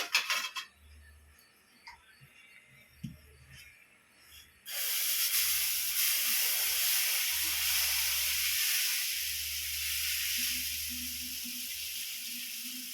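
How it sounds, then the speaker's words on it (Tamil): Dosa batter hits an oiled hot pan in a home kitchen and breaks into a loud, steady, hissing sizzle that starts suddenly after a few quiet seconds with faint low rumbles, then holds close and continuous to the end. "எண்ணெய் தடவணும்பா. அவ்வளோதான். தோசை ஊற்றிடலாம்."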